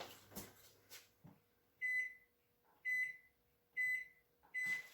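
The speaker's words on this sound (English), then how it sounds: "Set the timer for 1 minute." A kitchen timer beeps while making homemade lemon meringue pie, four evenly spaced, clear electronic beeps after a few soft handling clicks, close and alone.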